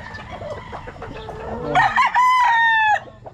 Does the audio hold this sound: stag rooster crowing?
yes